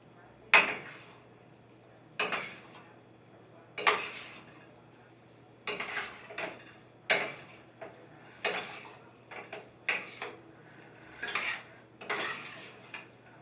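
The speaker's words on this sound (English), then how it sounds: "Now be careful how you stir it." A spoon stirs and folds pasta through tomato sauce in a pot, giving about a dozen distinct clinks and scrapes against the metal at irregular intervals, close and fairly quiet, with no talking.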